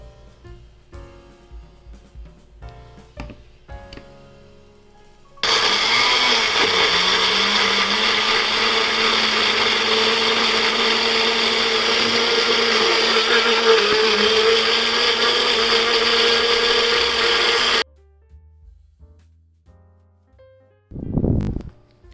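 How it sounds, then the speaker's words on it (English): A blender runs loud and steady for about twelve seconds blending a cilantro lime cream sauce, with faint clinks before it starts and a brief thud after it stops. "It's time to blend."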